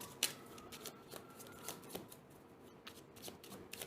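Tarot cards being shuffled by hand, a close, crisp run of rapid papery riffles and soft clicks that comes in quick bursts for several seconds, with no talking.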